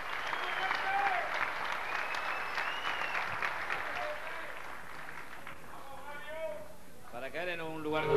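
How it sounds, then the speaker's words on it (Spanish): A crowd at a padel world championship final in Argentina applauds steadily, a broad wash of clapping, and a voice begins speaking as the clapping fades near the end. "pido también un fuerte aplauso"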